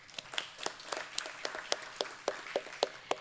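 Scattered applause from a small audience at a community conversation on youth mental health, with sparse, uneven claps and no voices over them.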